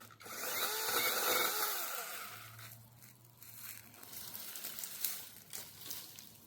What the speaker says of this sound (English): This Seesii mini chainsaw comes with 2 rechargeable batteries.